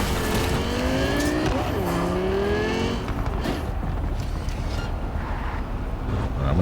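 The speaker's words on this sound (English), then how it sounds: "Lost control of the car there." A car skidding out of control in the video game Cyberpunk 2077, with loud, wavering tire squeals over a constant engine roar that carries on after the screech fades.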